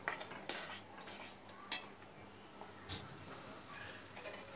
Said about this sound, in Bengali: ভালো করে মিশিয়ে নেব, এটা আরও একটু সময় হবে।